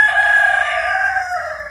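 A rooster crows once, a loud, close, drawn-out cock-a-doodle-doo with a falling tail, heard alone without talk.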